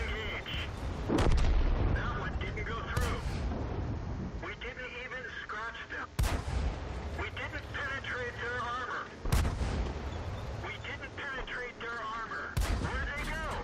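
World of Tanks gameplay with a Matilda IV on the Ruinberg map: a tank gun fires into the ground, one of several sharp, loud cannon blasts spaced every few seconds, with someone talking quietly between them.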